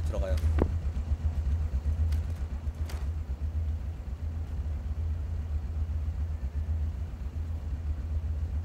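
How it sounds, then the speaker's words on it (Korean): A buggy in the PUBG video game drives with a steady low engine rumble throughout, loud and continuous, while players talk over it. "나는 버기 타고 들어갈 테니까"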